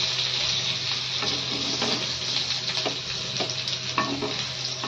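Kakrol, or bitter gourd, fries with prawns in a hot pan, a continuous close sizzle broken by repeated scraping stirs of a spatula at an uneven rhythm, with no voices.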